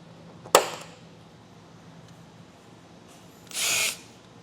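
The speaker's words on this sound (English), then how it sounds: "so we can go ahead and get that drilled out now" A power drill with a 3/8 drill bit bores a hole during installation of a Redarc Tow-Pro Liberty brake controller in a 2025 Nissan: one sharp, brief burst near the start, then a louder whirring run of about half a second, close by with no talk.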